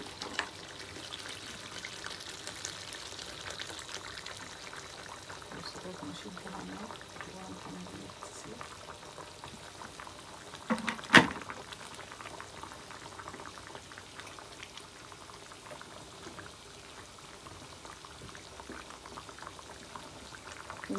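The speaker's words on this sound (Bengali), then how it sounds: "গরম পানি দিয়ে দিচ্ছি।" Hot water is poured into a pot of meat dansak simmering on the stove. A soft, continuous bubbling runs throughout, broken by a brief louder splash of pouring midway, all fairly faint and close.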